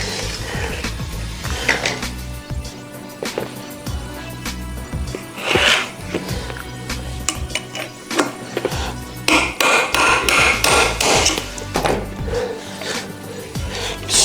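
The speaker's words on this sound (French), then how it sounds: "On va essayer d'extraire les anciens roulements et on mettra les nouveaux." Old bearings being hammered out of an MBK 51 moped, with repeated sharp metallic hammer blows in irregular bursts, some quick runs of strikes and louder clanks later on, close by, with no talking.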